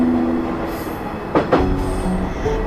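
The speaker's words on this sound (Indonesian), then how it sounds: "Ketika ada kereta api yang melintas," Railway train passing a level crossing: a steady rumbling roll of the cars with a brief metallic squeal of wheels midway, fairly close and continuous, with no voices.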